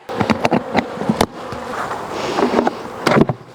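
Honey bees buzz around a struggling colony in an 8-frame beehive, a steady hum with several louder passes as bees fly close by, with no one speaking.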